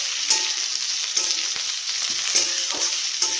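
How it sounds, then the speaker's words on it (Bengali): Onion and garlic paste frying in hot oil in a pan, a close, steady sizzle with light stirring scrapes and clicks, no voices. "6টা ছোট সাইজের রসুন বাটা ভালো করে এই তেলের মধ্যে দিয়ে পেঁয়াজ আর রসুন ভালো করে ভেজে নেব"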